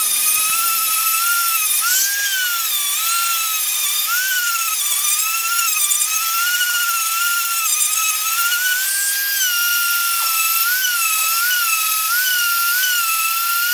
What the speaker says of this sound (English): what we're going to do now is repeat the rolling the Dremel round, round the bottom, round this side and in the middle